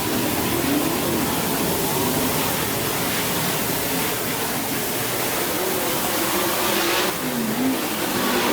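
Race car engines roar continuously on a short-track oval, a dense, loud wash of several cars circling together with no voices over it.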